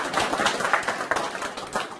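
Audience at a gathering for a homeless shelter applauding, a dense wash of many hands clapping continuously and fairly loud, no clear rhythm, with no voices over it.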